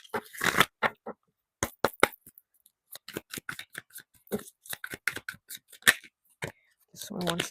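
Tarot cards being shuffled by hand, a run of crisp slapping riffles and flicks in quick irregular bursts with brief pauses between them, close up and fairly quiet.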